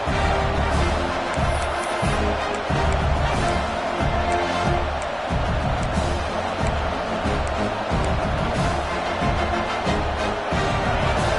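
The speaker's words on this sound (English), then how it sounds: "This crowd, full throat, spreading the eardrums and letting them know it's going to be a long day." A football stadium crowd roars steadily and loudly, a dense wash of cheering that holds for the whole stretch, with no clear voice standing out.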